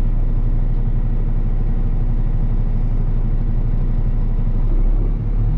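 A 2020 Kenworth T880 super dump truck runs at about 800 RPM with the PTO engaged to lift the box, a steady deep diesel rumble close by, unbroken and loud, with no voices.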